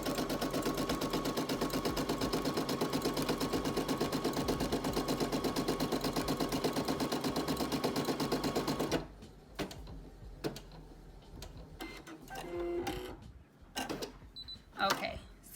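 A Brother PE 800 embroidery machine stitches on fabric with a fast, steady mechanical rattle that runs loud and unbroken for several seconds, then stops abruptly. Scattered handling sounds and some talk follow.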